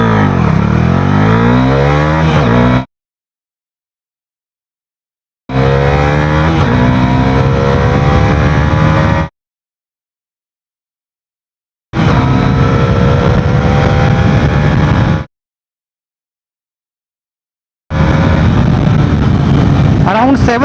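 A Bajaj Dominar 400 motorcycle accelerates hard from 0 to 100 km/h in four separate loud runs, with the engine pitch climbing through the gears each time, separated by silent gaps.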